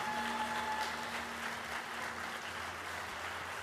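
Continued audience clapping for the district Teacher of the Year at a school celebration, a steady, loud wash of applause with a faint tonal hum beneath it.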